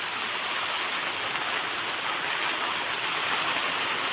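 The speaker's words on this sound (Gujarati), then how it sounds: "ફૂલ વરસાદની મોજ છે" A steady downpour of heavy rain in Gujarat makes a constant broad hiss, close and loud, without pauses or voices over the few seconds.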